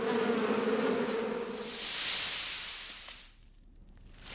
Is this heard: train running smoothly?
no